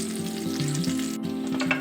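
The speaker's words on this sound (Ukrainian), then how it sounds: "Особисто я смажу в невеликій кількості олії." Choux-dough pies sizzle and fry in a small amount of oil in a pan, a steady close crackling hiss with occasional brighter pops, continuous and fairly loud with no voices.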